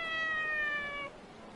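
Cat in Like a Dragon: Ishin lets out a single drawn-out, high meow, clear and fairly close over quiet game ambience, then stops abruptly.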